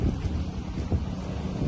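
Steady outdoor wind buffets the microphone in a cold, breezy open-air spot in Ilocos Norte, a continuous low rumble with gusty swells and no talk.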